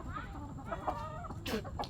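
Chickens cluck in short, scattered calls at a rural riverside home in Barishal, Bangladesh, fairly quiet and close, with a low background murmur.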